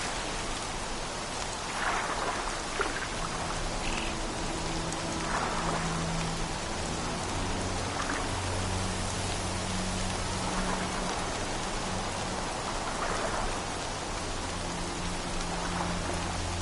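Steady rain falls in a video game world, a dense continuous hiss of drops on surfaces with no break, joined by faint low rumbling tones from the game's music.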